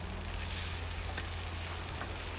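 Fish fingers sizzle in a pan on a Cadac Safari Chef 2 portable gas barbecue outdoors, a close, steady crackling hiss over a low burner hum, continuous with no talk.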